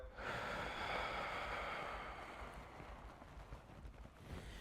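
A long, controlled exhale during a low-back rehab breathing exercise, heard as a steady breathy rush that fades gradually, close to the microphone and without talk.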